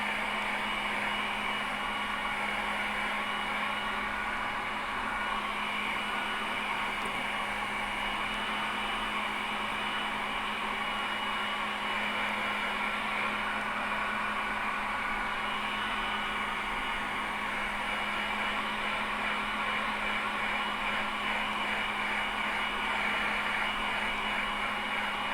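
A hair dryer blows steadily on a watercolour glaze, drying the paint with a constant close whooshing airflow and an even motor hum that holds for the whole stretch without a break.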